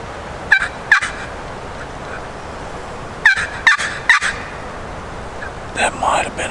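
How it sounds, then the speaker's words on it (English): A wild turkey gobbles on public land in spring woods, several loud rattling gobble calls in short bursts with pauses between, carried on a steady wind. "That might have been a turkey gobble."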